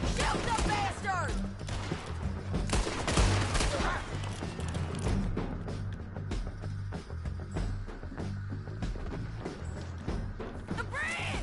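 Gunfire crackles from Red Dead Redemption 2, a dense volley of shots and thuds in the opening seconds that keeps going more sparsely under shouting voices and game noise.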